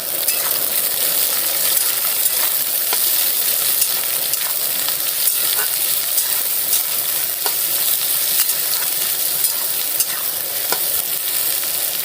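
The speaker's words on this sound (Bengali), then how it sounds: "পেঁয়াজটা দেওয়ার পর ভালো করে ভেজে নেব।" Sliced onions fry in a pan over a gas flame, giving a loud, steady sizzle across the whole stretch, with small clicks and scrapes from stirring now and then and no talk.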